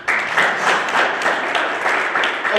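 A comedy club audience claps steadily and continuously for a few seconds, a dense, even wash of applause with no talk over it.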